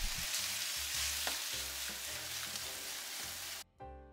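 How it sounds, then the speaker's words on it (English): Marinated pork frying in a pan, a loud, close, continuous sizzle with bursts of crackling and spattering, cut off abruptly near the end. "Cook it up, listen to that sizzle."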